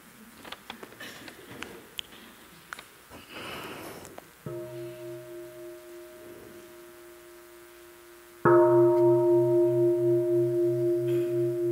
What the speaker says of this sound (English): Everybody smile and we listen to one sound of the bell.